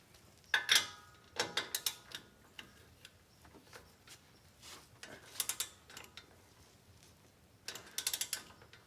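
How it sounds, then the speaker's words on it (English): A ratcheting wrench tightens a sway bar bolt on a 2019 or later Ford Ranger, giving faint bursts of quick clicking ticks in several separate runs, close by with no talk. "you're going to tighten it down. and then torque it at 45 foot-pounds."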